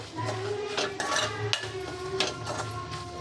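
Spoon scraping and clinking against a pot while stirring milk pudding on the stove, several short metallic knocks and scrapes at an uneven rhythm, close and fairly quiet.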